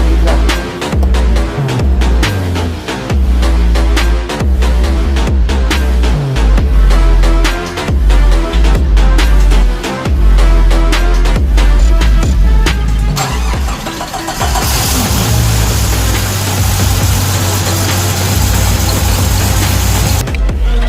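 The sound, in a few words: off-road car engine revving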